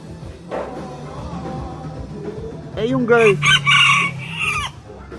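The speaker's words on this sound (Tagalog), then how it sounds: "Ang napakaliit niyan guys, napakaliit pong manok." A small Serama rooster gives a thin, high crow midway through, preceded by some soft clucking and low background noise.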